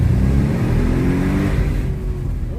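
An Audi S8 engine revs inside a small tunnel, a loud, close mid-pitched roar with rising and falling engine tones that echo off the walls and ease off toward the end.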